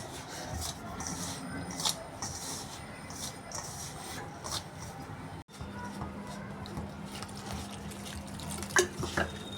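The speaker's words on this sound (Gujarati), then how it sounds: "હવે આપણે લોટ બાંધીશું" Coarse wheat flour dough for methi thepla being kneaded by hand, a steady soft rubbing and squishing with occasional light knocks throughout, close and fairly quiet.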